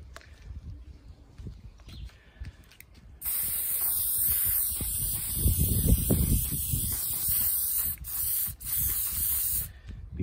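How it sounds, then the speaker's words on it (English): Clear lacquer sprayed from an aerosol can onto controller buttons: a loud, close, continuous hiss lasting several seconds, broken by a couple of brief pauses, with handling knocks and rustles before and under it. "we're going to spray this just so the paint stays on and it's covered with a layer of clear lacquer"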